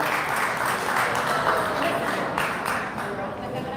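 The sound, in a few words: audience applause at press conference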